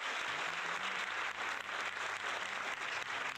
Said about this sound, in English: let me give you guys all a big round of applause for being on in here.